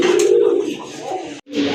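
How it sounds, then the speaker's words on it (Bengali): A red check pigeon coos nearby in a low, steady, resonant call that breaks off briefly and then resumes. "নটটা কিন্তু খুবই ভালো ডাকে"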